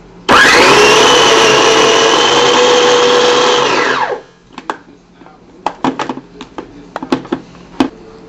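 A food processor chops onion for homemade salsa in a loud, steady whirring burst of about four seconds, then stops, followed by a few sharp clacks and knocks.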